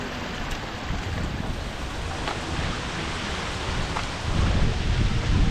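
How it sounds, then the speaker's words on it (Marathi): Sudden heavy rain hisses all around on a high hillside near a waterfall, a dense, even wash of noise with a faint patter of drops and no voices. "थोडंसं ऊन पडतंय, अचानक पाऊस येतोय."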